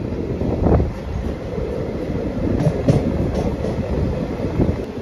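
Koraput-Visakhapatnam InterCity Express standing at a station where it has no scheduled halt, a steady low rumble of rail cars and machinery with faint clanks, continuous and fairly loud.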